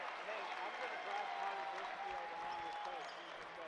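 Basketball arena crowd at Kaplan Arena applauds and cheers as people rise to their feet, a steady wash of clapping and noise heard from a distance, fairly faint, with a voice talking over it.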